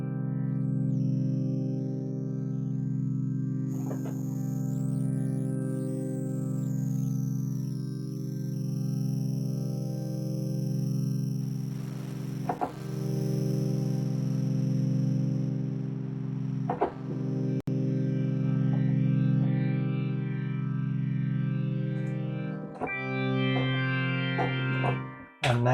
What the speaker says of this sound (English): Maybe this decimator, it's like a bit crusher.